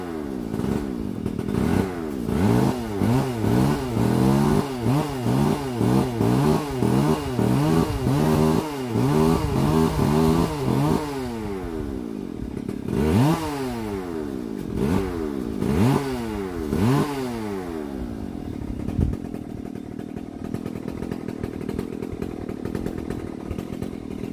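A loud motorized power cutter cutting tiles whines and bogs repeatedly in rhythmic bursts, then several shorter cuts follow before it settles to a lower idle drone.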